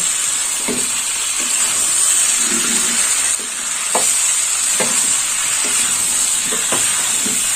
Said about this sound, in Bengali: এবার পনির দেওয়ার পরে আর একটু কষে নেব